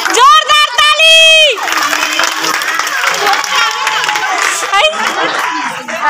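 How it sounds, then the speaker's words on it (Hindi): A crowd at a Janmashtami pot-breaking event cheers loudly, opening with a shrill sustained shout before settling into mixed cheering, children's yells and scattered clapping, with chatter and talk throughout. "जोरदार ताली।"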